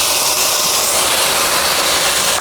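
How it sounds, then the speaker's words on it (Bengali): Onion paste hitting hot oil for a Bengali pona fish teljhal curry, a loud, steady, close hiss of sizzling frying that holds evenly from start to finish. "এবার এই তেলের মধ্যে আমি দিয়ে দেবো সামান্য পেঁয়াজ বাটা।"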